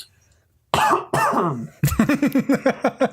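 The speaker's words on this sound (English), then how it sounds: "I had to cough." A person coughs several times while recording a gaming podcast, with a pair of harsh bursts followed by a quick run of short, rhythmic hacks, loud and close to the microphone.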